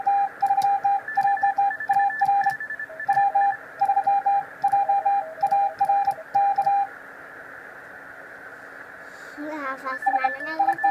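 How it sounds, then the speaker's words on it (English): Morse code beeps, tapped out by a four-year-old learning the code, come from a radio set as short and long steady tones in quick irregular groups, loud and close. Part way through they pause under a faint hum, then resume. "He's beeping at me."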